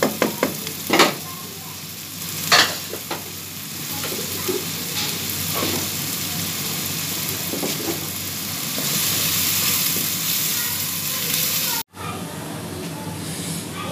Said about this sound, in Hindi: इसको भून लेना, ज़रा लाइट ब्राउन सा कर लेना